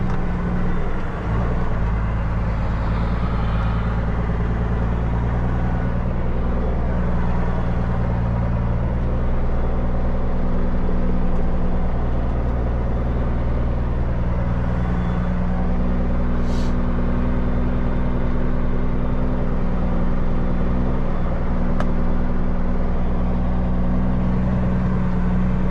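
An older semi truck tractor with a highway fifth wheel idling nearby, a loud continuous low diesel rumble holding steady throughout.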